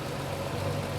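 Engine of a 1973 Triumph TR6 idling steadily after a timing adjustment, a close, even low rumble with a faint uneven pulse throughout, no talking.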